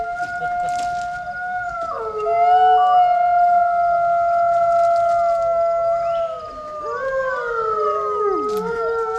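Long, wavering wolf howls overlap, one steady tone joined by another that slides and dips, carrying clearly without any talking, at a wolf conservation center in New York.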